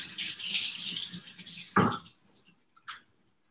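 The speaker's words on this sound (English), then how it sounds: "I'm going to wash this hand." Running tap water splashes steadily as a hand is rinsed in a home kitchen, then stops with a few faint drips and light clatter at close range.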